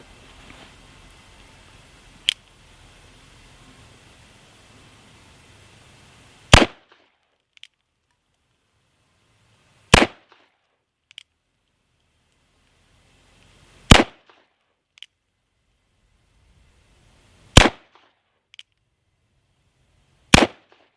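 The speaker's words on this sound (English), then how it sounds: "First shots of the Cimarron Bisley revolver, 4440 at 10 yards." Cimarron Bisley revolver in 44-40 fired at a range, five sharp, loud single shots spaced a few seconds apart, each followed by a faint echo, with near silence between them.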